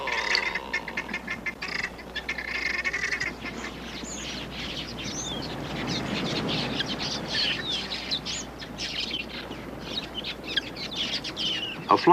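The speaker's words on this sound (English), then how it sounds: "A flock of quilias makes a hit-and-run raid on the waterhole." A flock of quelea birds raids a waterhole in the African bush, a dense chattering and twittering swarm of calls with fluttering wings. It is continuous and busy, rising and falling throughout.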